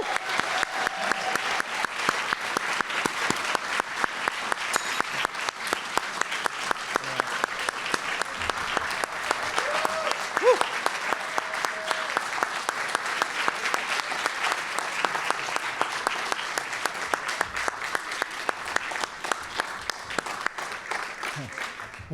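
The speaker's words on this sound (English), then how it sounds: "One more round of applause for our inductees." A crowd at a college athletics hall of fame ceremony gives a sustained round of applause for the inductees, steady and moderately distant, continuing for over twenty seconds with faint voices mixed in.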